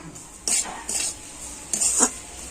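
Semolina and powdered sugar stirred in a pan, three short scraping bursts of a utensil against metal separated by quiet gaps.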